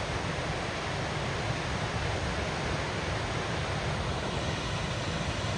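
Great Falls in Connecticut roars as a steady, dense wash of falling water, close and continuous with no break, filling the whole moment without any voices.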